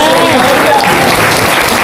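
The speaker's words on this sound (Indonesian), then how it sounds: "Tepuk tangan." A dense, loud burst of applause from a large church congregation, steady throughout with a voice faintly underneath.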